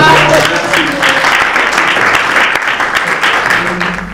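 Steady applause from an audience at a gathering, continuous crowd clapping at a strong level that holds throughout with little change, with faint voices mixed underneath.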